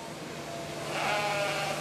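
At a junior livestock show, a sheep bleats in the sheep division amid steady arena background noise, the call rising moderately loud near the end of the short stretch.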